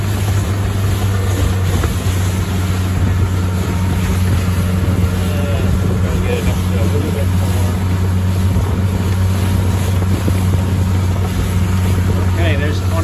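A Carolina Skiff 23LS runs on open water with its outboard motor held at about 2,700 RPM: a steady, loud drone under heavy wind buffeting, with a voice talking over it.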